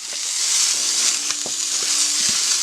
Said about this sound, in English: on the other side of the grill, I'm going to go ahead and put my bread down